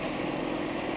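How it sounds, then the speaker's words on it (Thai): A 2019 Toyota Camry 2.5 hybrid with the A25 engine idles steadily, a close, even hum with no speech over it. "นี่คือเสียงของเครื่องยนต์นะครับ"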